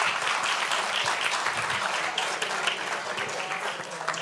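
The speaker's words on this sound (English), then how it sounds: "So please have a big round of applause for our friend Iulia Feroli." Audience applause for a conference speaker, dense and steady clapping from a crowd that stays at an even loudness throughout without fading.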